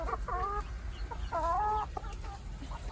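A Wheaten Ameraucana hen clucks on a backyard farm with layer and meat chickens, two drawn-out, wavering clucking calls close by, with softer clucks between them over a low rumbling background.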